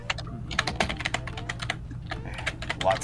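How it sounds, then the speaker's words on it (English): Rapid, vigorous typing on a computer keyboard, dense clattering keystrokes in an uneven burst-like rhythm, close and steady over a low background hum. "Typing. Yep, vigorous typing."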